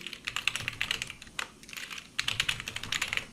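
Quick bursts of keystrokes on a computer keyboard enter an email address, the clicks coming in three close runs with brief pauses between them, crisp and near.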